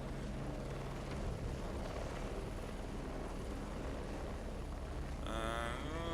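A continuous helicopter rotor drone with engine rumble in the video game Heliborne, steady and loud throughout, with a brief higher whine near the end.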